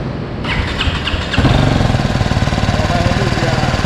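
A BMW G310 GS motorcycle engine cranks and catches, then settles into a quick throbbing idle with a brief rev, the exhaust pulsing steadily and close by.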